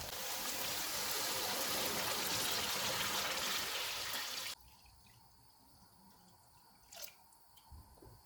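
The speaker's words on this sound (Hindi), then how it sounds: "पाँच मिनट के बाद 7 गिलास पानी डालेंगे।" Water is poured from a glass into a pot of spiced meat for junglee pulao, a steady splashing gush for a few seconds that stops abruptly, followed by faint drips in the quiet.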